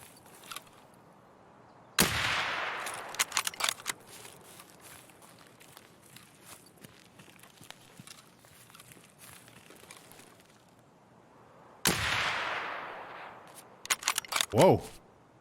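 Sharp gunshot cracks in Escape from Tarkov ring out on the Woods map, one near blast with a long echoing tail around two seconds, another at twelve, then a quick burst near the end over quiet ambience.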